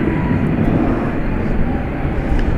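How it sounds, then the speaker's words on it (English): A Boeing 777 airliner at Dallas Fort Worth International Airport at night, its jet engines giving a loud, steady broadband roar that holds constant throughout, with a faint voice in the background. "And this plane, of course, is a 777. It's going to Anchorage."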